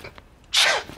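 A single close, loud sneeze bursts out after a quiet moment, a sharp breathy blast that trails off quickly.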